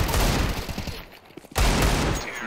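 Rapid gunfire in Counter-Strike 2 on the Dust2 map comes in two close, loud bursts of shots separated by a brief lull.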